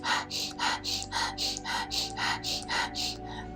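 Rapid, steady run of forceful mouth exhales during a breathwork session, about three per second, close and clear over a soft sustained musical drone.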